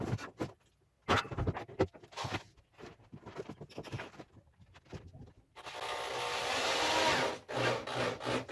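Saw cutting through a wooden board for a pantry cabinet, a steady loud rasping cut lasting a couple of seconds, preceded and followed by scattered knocks, rubs and handling of the wood nearby.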